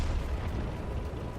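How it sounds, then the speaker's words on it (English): Artillery shells land in World of Tanks with a heavy, rumbling explosion, a dense low boom that stays loud and rolling across the moment. "artillery had spotted me and started lobbing shells over my head"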